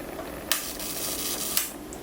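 Rollei 35 film camera shutter with dried-out lubricant fires at a slow speed, giving two sharp close clicks about a second apart over a steady background hiss.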